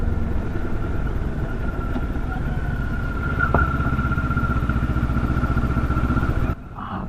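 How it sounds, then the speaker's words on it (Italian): A Benelli X-Cape 650 adventure motorcycle idles steadily on a mountain road near Boca dea Forca, its low engine drone continuous and close for about six seconds before cutting off abruptly. "Intanto vi lascio al canto dell'Escape."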